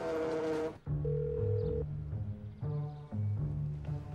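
A telephone rings indoors in repeated tonal bursts with short gaps between them, fairly quiet and heard alone without talk.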